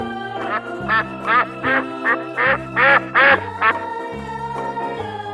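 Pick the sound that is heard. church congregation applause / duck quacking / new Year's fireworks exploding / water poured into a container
duck quacking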